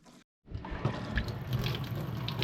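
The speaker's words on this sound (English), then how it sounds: "Well, we got running water." Water runs steadily from a tap just after a copper fitting is connected, a soft continuous splashing hiss that starts after a brief silence and carries on without talk.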